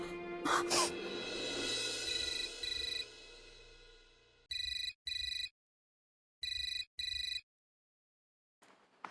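A telephone rings in four short electronic bursts separated by silence, loud and close, following a stretch of mixed room noise with brief voice sounds; a faint voice picks up at the very end.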